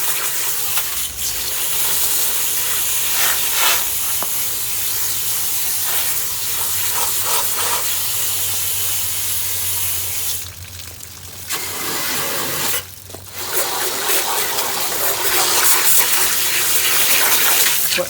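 A garden hose sprays a steady, close rush of water through a dirty window air conditioner being cleaned out, a continuous hiss with two brief dips where the flow pauses, no speech.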